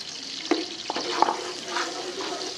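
Finely chopped onions frying in a pan give off a steady, close sizzling hiss, broken by a few light clicks and scrapes from stirring, with no talk.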